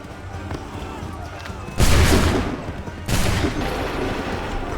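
Two thunderous musket volleys from a line of soldiers in Assassin's Creed 3 crack out a second or so apart, each a loud broadband blast that rolls off into a lingering rumble over battlefield ambience.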